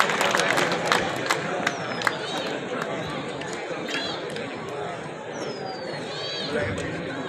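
Crowd clapping and cheering at a Devnarayan temple gathering honoring officials, a dense, loud burst of claps mixed with chatter and a few whistles, continuing throughout under a busy murmur of voices.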